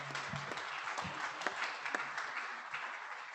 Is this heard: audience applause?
yes